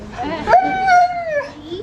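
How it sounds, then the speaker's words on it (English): A sled dog howls loudly and close by in one long rising, wavering cry, preceded by a shorter yelp, at a dog sled club meet-and-greet in a park. "They howl, howl all the time."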